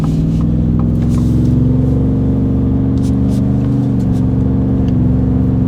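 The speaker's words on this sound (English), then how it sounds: "this is the single, as you've seen, with the resonator in place. Simple acceleration" Deep, steady exhaust drone from a 2021+ Ford F-150 5.0 V8 fitted with an MBRP single side exit cat-back exhaust and resonator, accelerating loud and close with a constant heavy rumble.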